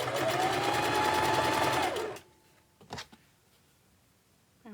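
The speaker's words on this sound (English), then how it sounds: "right now I'm just putting these two together, sewing them straight across" A sewing machine stitching two fabric pieces straight across, running in a fast, loud, even whir for about two seconds before stopping, followed by quiet handling clicks.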